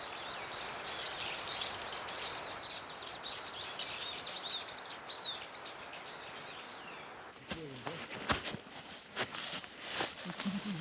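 Wild birds in a mountain forest give a rapid series of high chirps and warbling calls at moderate distance, then a few sharper tweets against faint background rustle.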